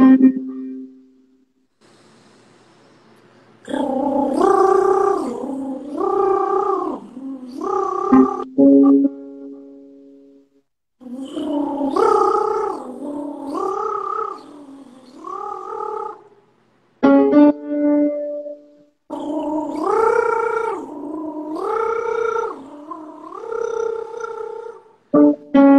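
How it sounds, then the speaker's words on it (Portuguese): Voiced gargling in a singing lesson: repeated wavering, bubbling tones with a steady pitch, given in three long runs with short pauses between them, loud and close, no speech. "Pega mais um golinhozinho e faz um gargarejo com som."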